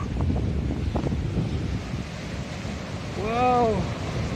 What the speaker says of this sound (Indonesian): Angin kencang sekali siang ini.